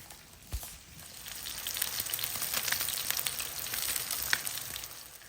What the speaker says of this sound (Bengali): মাছটা কিন্তু অনেক সুন্দর মচমচা করে ভাজছি